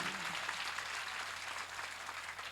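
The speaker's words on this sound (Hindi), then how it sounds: "तालियां बड़ी कमजोर है" Thin, weak applause from an audience at a Shri Ram Katha religious discourse gathering, a steady light patter of clapping lasting throughout without voices.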